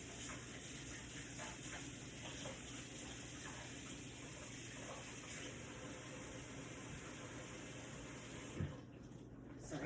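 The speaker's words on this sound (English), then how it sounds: "wash my hands off again." Tap water runs steadily for about nine seconds as hands are rinsed off again mid-way through a painting session, a continuous broad hiss with a brief splash near the end.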